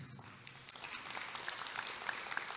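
An audience at an engineering conference applauds for a guest, a soft, fairly distant patter of many hands clapping that holds steady throughout.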